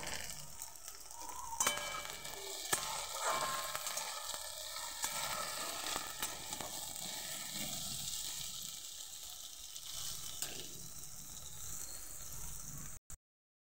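Okra frying in a pan with salt, giving a steady close sizzle throughout with faint stirring sounds, no voices.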